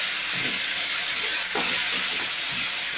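Green chillies frying in a pan for chicken momo give a steady, loud hiss and sizzle throughout, with a few soft stirring scrapes over it.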